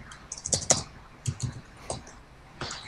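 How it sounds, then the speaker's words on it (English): Scattered keystrokes click on a computer keyboard in a quiet room, irregular taps with brief pauses between short clusters, close and fairly clear. "Now, you were typing something."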